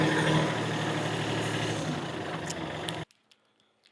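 A tractor engine idles with a steady low chug and a busy broadband roar for about three seconds, then cuts off abruptly, leaving near silence with a few faint knocks.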